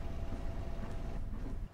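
Engine of a MAN Lion's City DL07 bus in OMSI 2, a steady low rumble close by, running alone for under two seconds.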